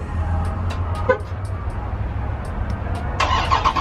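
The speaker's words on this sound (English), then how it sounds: "let's get a quick little cold start on this bad boy" A 2023 Dodge Challenger Scat Pack Shaker starts cold. After clicks and a brief whirring crank, a loud close rumble of the engine rises near the end.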